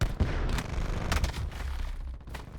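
Video game gunfire rattles in fast, sharp volleys close by, several bursts of shots over a low rumbling bed, thinning out toward the end.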